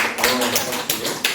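A few scattered hand claps from a church congregation at a Wednesday Bible study, sharp and uneven bursts over a faint murmuring room.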